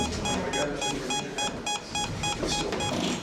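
A ghost-hunting meter on a house staircase beeps in a rapid, steady series of short electronic tones, fairly close and distinct over a faint background rumble.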